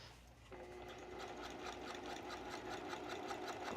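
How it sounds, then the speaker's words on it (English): A sewing machine runs steadily at close range, stitching along the facing of a little black dress, with a fast, even mechanical chatter and a low motor hum that holds for several seconds without talking. "I'm stitching along this edge here of the facing, and I'm stitching enclosing that seam allowance."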